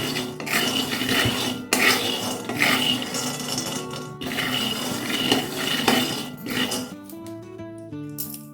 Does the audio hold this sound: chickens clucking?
no